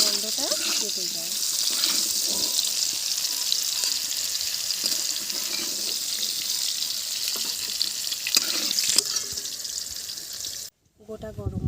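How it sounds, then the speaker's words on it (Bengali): Capsicum is fried lightly in a little oil and stirred, producing a constant bright, hissing sizzle with occasional utensil scrapes, close and steady before cutting off abruptly near the end. "ক্যাপসিকাম ভাজা হালকা করে একটু তেলের মধ্যে নেড়ে নিলাম"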